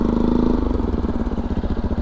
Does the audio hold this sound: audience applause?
no